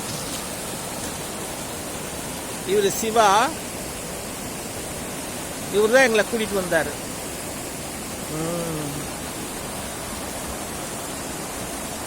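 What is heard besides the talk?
muddy water rushing at Puliyancholai after rain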